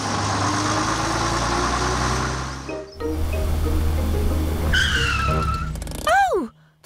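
A cartoon bus in a Peppa Pig episode idles with a low engine drone, then revs and pulls away with a rising, skidding whine that fades off.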